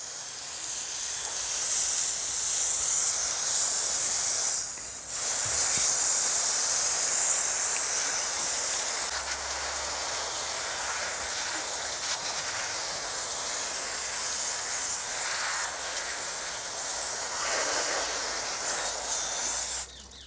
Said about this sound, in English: We're going to go over to the hose so we can get all of the dirt and dust off of the wash.